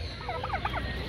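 A fowl at Peeku park in Yercaud calls close by with a quick, warbling, gobbling burst of notes that lasts about a second, over a steady background hum.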